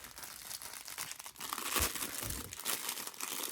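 Plastic wrapper crinkling and crackling up close as a budget wristwatch is unwrapped, continuous rustling with a few sharper crunches, no talk.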